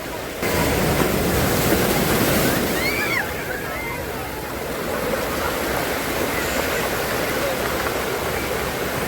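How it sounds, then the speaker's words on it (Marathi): Sea waves break at Nagaon beach near Uran with a loud, continuous rushing roar of surf close by. The wash swells and eases slightly partway through, and no one speaks. "हा नागाव बीच शिरवाडी बीच बघू शकतोय आणि या लाटा"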